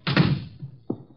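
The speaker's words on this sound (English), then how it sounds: "Shut the door." A door in an old radio drama is shut with a solid, close thunk, followed a moment later by a smaller second knock as it settles, with no voices during the sound.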